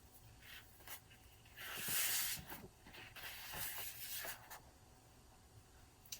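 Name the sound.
swishing of wallpaper sample book pages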